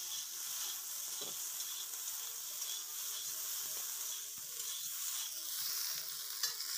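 Pointed gourd frying in a pan with ginger paste while being stirred: a steady, close sizzle of hot oil runs throughout, with occasional soft scrapes and clinks of the spoon against the pan and no talking.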